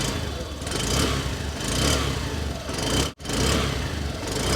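A 2025 Honda Activa 110 scooter engine running near, a steady rough hum that swells and eases in a regular rhythm, with a brief dropout partway through.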